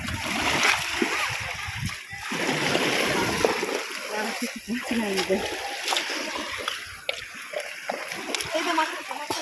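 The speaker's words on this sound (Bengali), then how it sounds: "মাদলা নদী না জোয়ার উঠতেছে" Rising tide water splashes and sloshes continuously on the Matla river in the Sundarbans during shrimp fishing, loud and close, with bursts of splatter and a voice talking over it.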